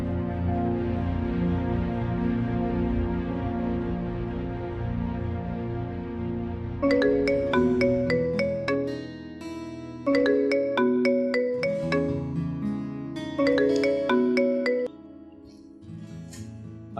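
A phone ringtone rings for an incoming call in a TV drama scene. It plays as a bright melodic phrase that repeats in three loud bursts over a sustained background music bed, with no talking.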